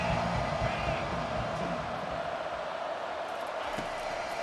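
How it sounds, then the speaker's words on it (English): Roar of a home stadium crowd in the College Football 25 video game, a dense continuous wash of cheering noise with a game commentator's voice over it. "this home crowd is going berserk for this third and long"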